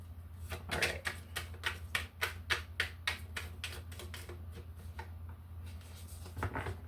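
Tarot deck being cut and shuffled: a quick run of crisp card clicks and riffles, close and fairly soft, over a steady low hum, with a brief rustle near the end.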